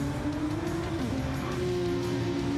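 Race car in Gran Turismo 7 sliding sideways at Spa, a steady loud engine drone with a rising whine and scrubbing tire noise throughout.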